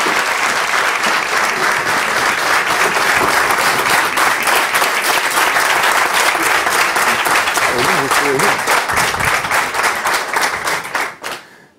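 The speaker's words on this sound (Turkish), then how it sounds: "büyük bir alkışla seyirci, coşalım." Studio audience at a Turkish comedy show bursts into loud, sustained applause filling the room, dense clapping holding steady for about eleven seconds before fading out at the end.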